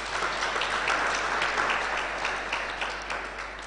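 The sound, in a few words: congregation clapping applause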